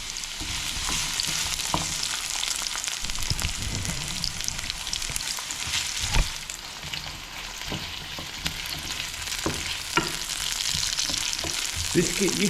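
Onions fry in a pan with a dense, steady sizzle and crackle throughout, close and fairly loud, with occasional stirring knocks and scrapes and no speech.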